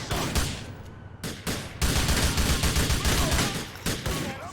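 Heavy bursts of gunfire in Grand Theft Auto IV, with rapid overlapping shots in dense volleys and one brief gap, loud and close.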